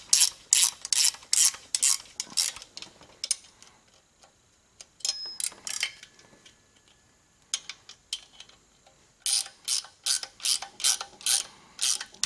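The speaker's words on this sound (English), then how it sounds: "Now I want to tighten them in a cross pattern so it pulls everything up flat." Ratchet wrench clicking in quick bursts while tightening rear disc brake bolts in a cross pattern, close and crisp, with pauses and a quieter stretch between sets of clicks.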